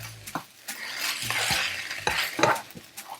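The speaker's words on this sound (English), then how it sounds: "give that a stir" Fried rice with a splash of lime juice is stirred in a hot pan: a few sharp utensil scrapes and clinks over a brief hissing sizzle, close and fairly loud.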